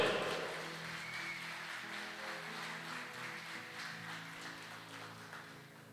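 Applause from a church congregation during a service, a broad steady wash of clapping that starts strongest and tapers slightly, fairly faint and distant, with no voices over it.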